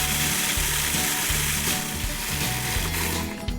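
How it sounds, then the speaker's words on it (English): A food processor grinding double chocolate gluten-free granola into crumbs: a loud, steady whirring motor with a rattling, rhythmic chop of pieces hitting the blade and bowl, close and continuous throughout. "this goes into a food processor and then give it a whirl"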